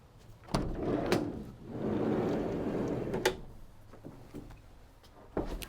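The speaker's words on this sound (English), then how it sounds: "Oh, so we've got a side loading door" A 2012 Ford Transit van's sliding side door is handled with clunks and a rolling slide, several sharp knocks and latch clicks, close up with no talking.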